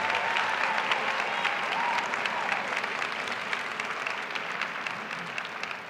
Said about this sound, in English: would you give your faculty members and our staff members a round of applause this morning